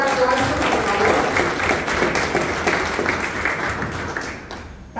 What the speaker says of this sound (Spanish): Bienvenido, un aplauso, por favor.